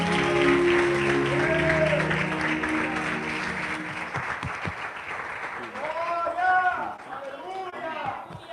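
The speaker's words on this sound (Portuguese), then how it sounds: "A igreja aplaude o Senhor Jesus." A church congregation gives sustained applause for Jesus, a broad wash of clapping that runs for several seconds and then thins, with voices rising over it toward the end.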